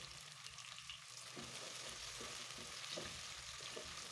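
Onions going into hot oil in a pan, a faint steady hiss and crackle with soft stirring movements, quiet and close, no voices.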